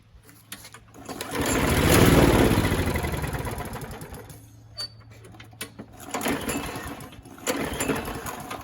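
A small Briggs & Stratton engine fitted with an aftermarket Chinese carburetor, used on a trimmer, fires and runs roughly for a few seconds, then sputters and fades out, followed by intermittent mechanical clatter.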